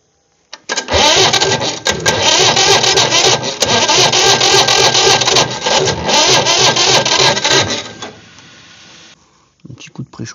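Small overheated motor engine being cranked to start, a loud continuous rattling, whirring burst lasting several seconds before cutting out, close to the microphone, followed by quieter background noise and a brief voice at the end.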